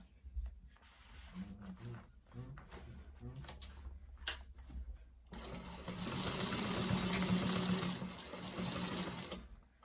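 A sewing machine stitches a quarter-inch seam on a bag: first a few short stop-start bursts with pauses and handling, then a longer steady run of fast mechanical whirring, fairly quiet and close.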